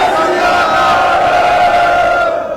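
A crowd at a Punjabi political rally stage lets out a loud, sustained Sikh jaikara battle cry, a massed sustained shout that holds steady before fading at the end.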